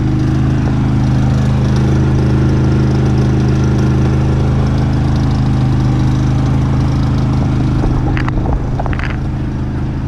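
A Predator 3500 watt inverter generator runs at a steady hum, a close, continuous low engine drone with an even tone and no talking over it.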